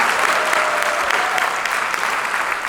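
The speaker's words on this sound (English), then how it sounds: "So I want to give another round of applause to our concert bands," A school concert audience applauds the concert bands, a dense, steady wash of clapping from many hands that carries at full strength from start to finish with no voices over it.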